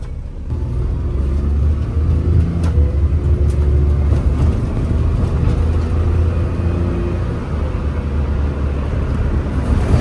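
Interior of a Suzuki Jimny driving along on a test drive, a steady low engine and road rumble with occasional faint rattles, loud and continuous.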